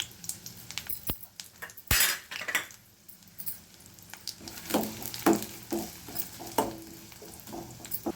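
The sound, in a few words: onion and green chilli frying in hot oil in pan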